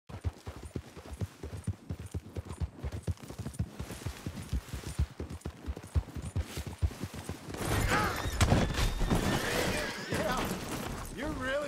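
Gunfire in Red Dead Redemption 2 during a horseback cattle roundup, a rapid string of sharp shots over galloping hooves, followed by a louder burst of noise, with characters talking throughout.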